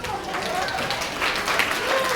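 A comedy club audience at a Thanksgiving Eve show in Tacoma applauds, a steady, moderately loud wash of many hands clapping that fills the room without letting up.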